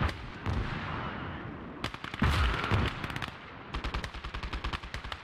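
Heavy artillery blasts and rapid bursts of machine-gun fire ring out in the WWII strategy game Call to Arms: Gates of Hell, with booming explosions followed by a long rhythmic stream of shots, loud and close, with no voices.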